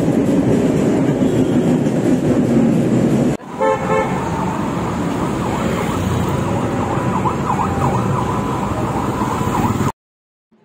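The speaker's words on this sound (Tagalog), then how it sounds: "damhin natin ang ingay ng Manila" Busy city noise in Manila with a train passing: a loud rumble of traffic and rail, then a short toot of a horn and a wavering tone, before the sound cuts off abruptly.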